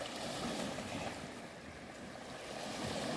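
Steady wind and breaking sea waves wash over a coastal pond embankment being eroded by seawater, a continuous broadband roar with no speech.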